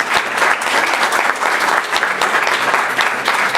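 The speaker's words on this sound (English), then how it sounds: "Students, I know you want to give your family a round of applause for their help in getting you here" Dense, steady clapping from a school board meeting audience honoring students' families, filling the room evenly without a break and with no talk on top.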